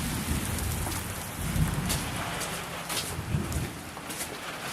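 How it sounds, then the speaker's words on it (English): A severe thunderstorm pours heavy, steady rain onto surfaces, with low rumbles of thunder swelling through the dense hiss, close and loud throughout. "this thunderstorm has gone severe."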